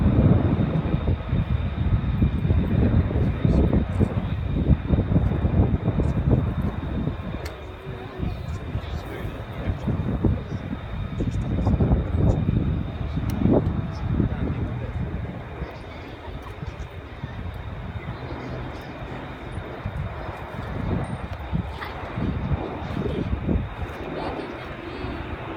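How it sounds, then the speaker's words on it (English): Airbus A400M military transport aircraft in an air-show flying display at RAF Fairford, a continuous distant propeller-engine drone rising and falling with wind buffeting, a commentator speaking throughout. "This aircraft today being displayed by Airbus"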